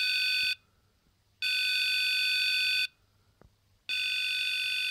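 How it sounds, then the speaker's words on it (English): An Arduino piezo buzzer, triggered when the light-dependent resistor is covered, sounds in three long, shrill, steady electronic beeps separated by short silent gaps, close and clear with no talking. "And you can hear the buzzer going."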